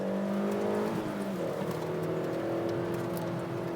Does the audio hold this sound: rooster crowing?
no